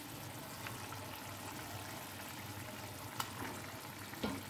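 Rohu fish pieces go into a boiling cumin gravy, a steady bubbling, frying hiss throughout, with a couple of soft splashes and taps as the pieces drop in, close and fairly even.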